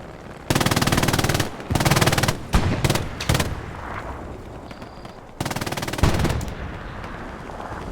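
Sustained bursts of machine gun fire from a camouflaged MG position in a World War II tank battle game match, loud and close, coming in several long rattling volleys separated by short pauses, with scattered single shots between them.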